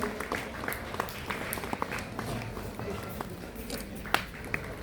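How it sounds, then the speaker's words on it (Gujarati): Scattered, fairly light applause from an audience at a school honouring ceremony, with irregular claps spread across several seconds and a few louder claps near the end. "જોરદાર તાળીઓથી વધાવીએ."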